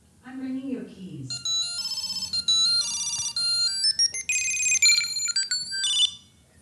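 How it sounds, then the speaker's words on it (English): A Tile Mate Bluetooth key tracker plays a bright, chirpy ringtone melody of rapid high beeps, following a brief voice at the start. "I'm ringing your keys."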